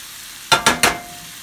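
Dryad's saddle (pheasant back) mushrooms hitting hot oil in a pan, giving three quick, loud sizzling bursts in close succession that fade into a faint background hiss, with no talking.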